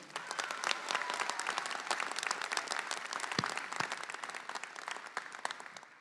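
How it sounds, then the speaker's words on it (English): Audience applause fills a college commencement ceremony at St. Francis College, a dense, steady roar of many hands clapping at close range for about six seconds, with a few sharper claps standing out. "So let's give a round of applause to them."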